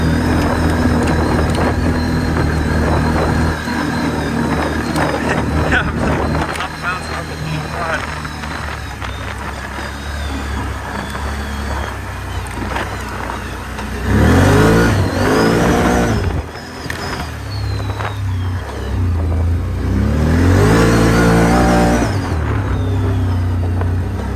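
An ATV engine drones while the machine rides over a bumpy off-road trail. The rumble rises into louder surges partway through and near the end, and someone talks over the engine noise.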